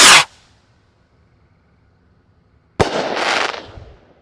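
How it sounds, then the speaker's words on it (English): A fat tail firework rocket goes off, with a loud sharp burst at the start, then a near-silent pause, then a second crackling, hissing explosion lasting about a second, all close and loud with no voices. "Yeah, fat tail rocket."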